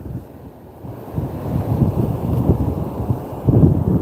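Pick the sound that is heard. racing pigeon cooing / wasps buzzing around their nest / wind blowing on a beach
wind blowing on a beach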